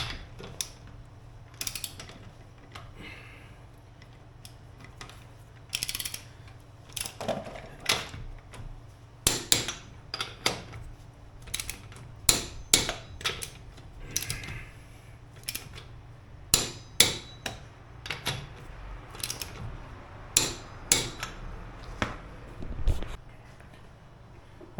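A torque wrench tightens the wheel nuts on a Hyundai i20 with repeated sharp ratcheting clicks and metallic knocks in irregular bursts. The sound is close and clear, with no talking.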